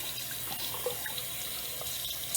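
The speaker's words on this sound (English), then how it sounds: "Take your filter and rinse it underneath the sink just to get any dust that's in there out of it" Tap water runs steadily into a sink as an aquarium filter cartridge with activated charcoal is rinsed underneath, a continuous close splashing rush with no talk.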